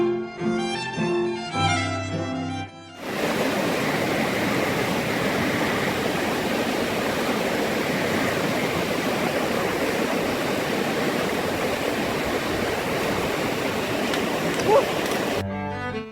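A glacier-fed river in Sweden rushes and churns into a waterfall, a loud, steady broadband roar of water that runs unbroken for most of the stretch after a brief musical opening.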